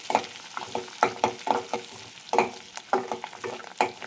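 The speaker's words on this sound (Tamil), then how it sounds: "இது நல்லா கொஞ்சம் வதங்கினோன்னே பச்சை மிளகாய் சேர்த்துக்கோங்க" Green chillies are sautéed in a pan with a soft sizzle, broken by close, rhythmic spatula scrapes and knocks about twice a second, with no talking.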